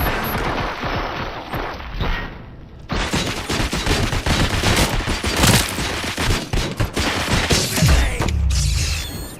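Heavy gunfire in the RoboCop: Rogue City video game, dense overlapping bursts of automatic fire and mechanical clatter, loud and continuous with sharp individual shots punching through.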